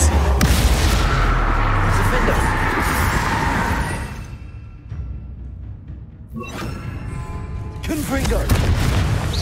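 A Bombarda spell blast from Hogwarts Legacy, a loud sustained boom with rumbling debris that fades out, followed a moment later by a second burst of crashing impacts.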